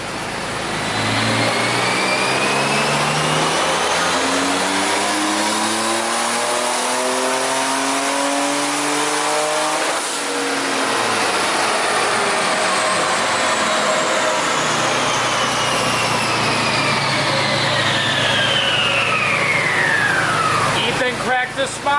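Porsche 930 with an air-cooled big-turbo engine revving hard on a dyno, loud and sustained, its pitch climbing steadily to the limiter around ten seconds, then a long falling turbo whine as it winds down.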